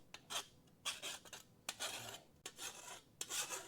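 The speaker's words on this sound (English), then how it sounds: "let me get my file, and we'll just get rid of the burrs" A metal file rasps along a freshly cut metal edge to clear burrs, about six short, bright strokes in an uneven rhythm, close and fairly quiet with no voices.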